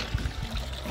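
Water pours in a short, close trickle at a construction site, a brief splashing gurgle with soft uneven pulses.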